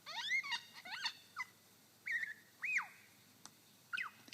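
A lyrebird in a Victorian forest mimics the harsh, wailing calls of a yellow-tailed black cockatoo, giving several rising and falling screeches spaced irregularly across a few seconds at moderate loudness.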